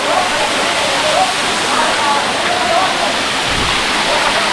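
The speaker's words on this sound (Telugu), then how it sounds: "వాటర్ పడుతుంది." Medaram waterfall near Gandhari, water pouring down in a steady broadband rush that fills the whole clip at moderate loudness, with a faint voice briefly under it.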